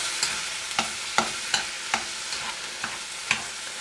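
Kimchi fried rice with Spam being stirred in a sizzling pan, a spatula scraping in a regular rhythm of about eight close, crisp strokes over continuous frying hiss.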